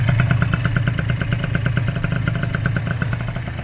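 A 70cc Yamaha Aerox scooter engine idles steadily and close by, with a fast, even putter and light mechanical clatter throughout.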